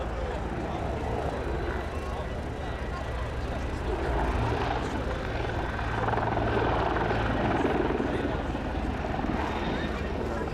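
A Mil Mi-24P Hind attack helicopter of the Hungarian Air Force performs a role demonstration at the RIAT 2022 airshow, its dense rotor and turbine roar loud and sustained, swelling as it manoeuvres, with a commentator talking over it.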